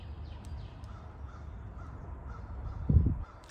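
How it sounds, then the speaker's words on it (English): Crows caw agitatedly in the background of a spring outdoor scene with birds of prey nearby, a fairly faint steady backdrop with one louder, closer burst near the end. "I could still hear the crows going nuts"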